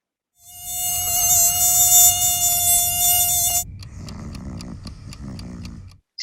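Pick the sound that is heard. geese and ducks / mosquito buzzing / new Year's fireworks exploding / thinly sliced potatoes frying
mosquito buzzing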